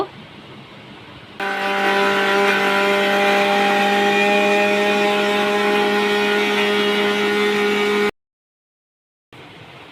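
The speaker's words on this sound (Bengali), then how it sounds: "এগুলোকে ব্লেন্ডার করে নিব।" After a quiet start, a blender kicks in grinding fried gram flour balls with a loud, steady whine and grinding drone, runs for several seconds, then cuts off abruptly.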